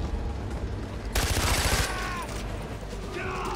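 Rapid bursts of automatic gunfire erupt loudly in the middle, over a constant background of Far Cry 4 game noise and effects, with a faint voice beneath.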